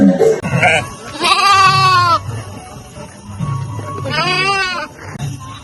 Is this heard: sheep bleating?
yes